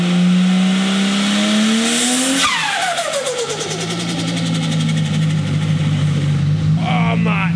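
Turbocharged car fitted with a 3-inch titanium dose pipe and small turbo, the engine revving then releasing a loud, close fluttering chatter as boost drops, a rapid pulsing train that settles into idle before another brief flutter at the end.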